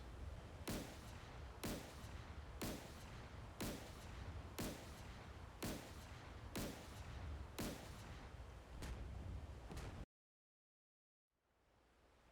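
Warships in DCS World, including a Project 20831 Steregushchiy, fire naval guns in a slow, regular cadence of about nine sharp booms roughly a second apart over a steady rushing bed, then the sound cuts to silence and faint hiss returns.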